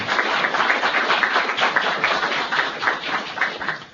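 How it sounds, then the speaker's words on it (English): Audience applause at a NOAA staff gathering: a dense, steady patter of many hands clapping, moderately loud and filling the whole stretch without a break. "Give yourselves a round of applause."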